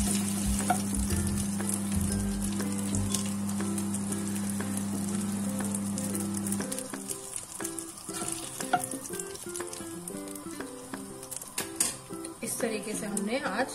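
Masala fish fries in a pan with a loud, crackling sizzle and stirring, while a steady tone and then music-like sounds and talking run over it.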